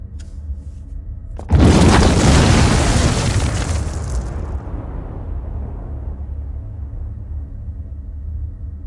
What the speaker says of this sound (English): The C4 in this device will detonate in 5 seconds.